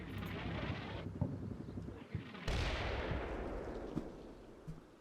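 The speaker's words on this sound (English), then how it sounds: "The last of the mortar rounds coming in." Mortar rounds land in the video game Combat Mission: Black Sea, with heavy rumbling blasts one after another and a loud impact midway that rolls off into a long, noisy decay.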